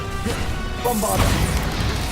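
Bombarda blasting spell hitting in Hogwarts Legacy, a heavy crashing impact with a rumbling low boom and debris-like smash that swells midway and lingers briefly.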